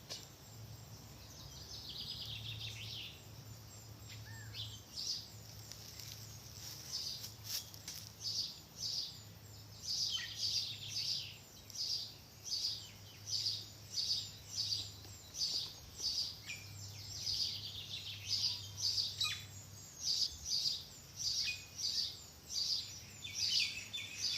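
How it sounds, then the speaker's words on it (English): Many birds chirp and twitter in steady repeated bursts over a low background hum at dusk as they settle to roost in New Zealand, a dense chorus of small calls carrying on without pause. "the birds are all settling down to roost now. You can hear them chirping away"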